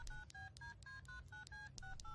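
A telephone number is punched in as a quick series of about a dozen touch-tone beeps, evenly paced and fairly faint, with no talking.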